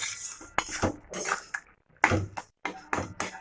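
Poppy seed paste going into a pan of boiled potatoes, heard as a few sharp clinks and scrapes of utensils against the pan in short bursts separated by brief silences.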